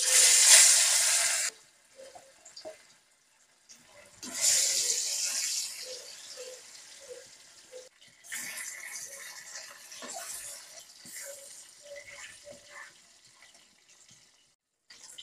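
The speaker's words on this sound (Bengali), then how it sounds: "তেল গরম হয়ে গেছে। এবারে আমি মাছগুলো ভেজে নেব।" Rohu fish dropped into hot oil in a kadai hisses loudly in bursts, each surge of sizzling fading to a quieter crackle with small pops before the next piece goes in.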